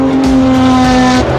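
A Porsche 917K racing car, the Gulf-liveried Le Mans model, roars loudly and close, its engine note holding steady and high with a rising surge, alone.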